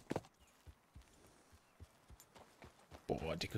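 Horse hooves clip-clop in Red Dead Redemption 2 as a few soft, uneven steps sounding under someone talking, ending in a louder burst of game noise.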